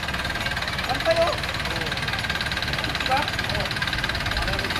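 Engine idling during a mechanic's check after radiator cleaning, a steady close rumble with an even, rapid pulse and a few faint clinks over it.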